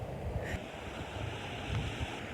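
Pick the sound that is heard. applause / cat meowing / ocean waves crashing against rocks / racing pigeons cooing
ocean waves crashing against rocks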